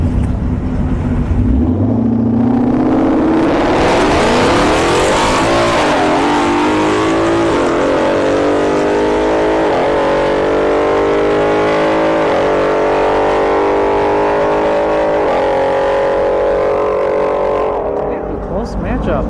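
A Mustang and a newer Cadillac CTS-V launch side by side at a drag strip, engines roaring loudly and rising in pitch through the gears, a continuous wall of engine noise with a commentator talking over it.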